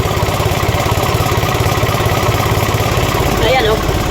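Hot-running Isuzu 4HF1 diesel engine with a worn liner and broken piston ring, giving a steady close rumbling idle with a fast, even low pulse throughout, while someone talks over it.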